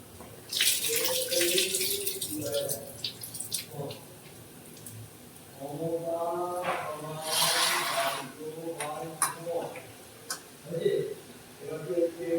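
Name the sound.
washing lentils (dal) in water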